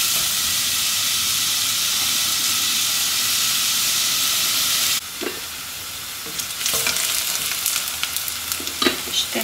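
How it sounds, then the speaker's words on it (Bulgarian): Parsley stems stew and sizzle in a pot for meatball soup, a steady bright hiss that drops off suddenly partway, followed by quieter crackles and stirring clatter. "Развъртваме и ще задушим по 5-6 минути."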